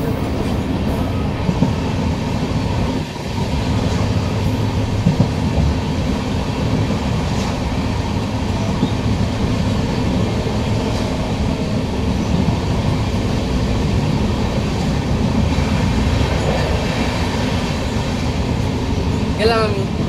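Kanchan Kanya Express running on the Sealdah to Siliguri line: a steady rumbling roll with faint rhythmic rail clatter underneath, and voices murmuring in the background.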